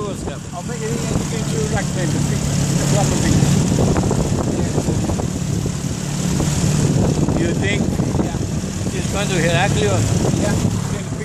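A boat's engine drones steadily as the boat returns near Agios Nikolaos, Crete, heard outdoors under heavy wind noise while people talk close by.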